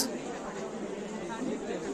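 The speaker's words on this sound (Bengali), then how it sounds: "লোকজনের একটু কিচিরমিচির আওয়াজ" Crowd of people chattering on a railway platform, a low murmur of overlapping indistinct voices at moderate distance, steady and continuous.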